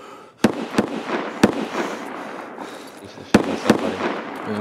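Gunfire in the shooter game Escape from Tarkov, several sharp, loud shots in two bursts over a hissing, rumbling ambient bed, with no talking during the shots.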